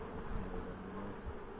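A honey bee buzzes close by during honey collection from hives at a fireweed site, a steady droning hum throughout the short moment with no talking.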